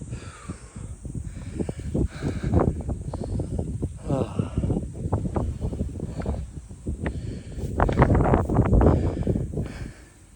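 Steady wind gusting across a mountain hiking trail on GoYoung Mountain in South Korea, a broad rushing buffet against the microphone that swells louder toward the end, with scattered rustling underneath.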